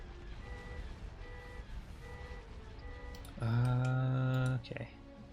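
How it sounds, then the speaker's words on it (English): A car alarm sounds with a series of evenly spaced electronic beeps, then jumps into a loud sustained wailing tone that cuts off abruptly, with faint background game noise beneath. "Oh, car alarm."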